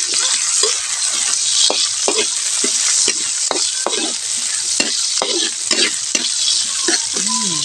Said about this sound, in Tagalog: sa pinagpretuhang kawali, dito na tayo magigisa mga kabayan. Isa tayo ng luya para sa ating fish curry